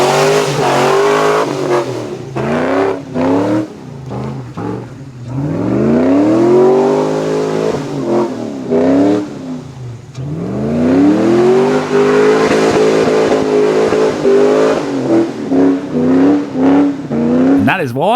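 An LS-swapped Nissan GQ Patrol climbs a hill with its V8 revving hard, the engine note rising and falling repeatedly in close, loud surges of throttle.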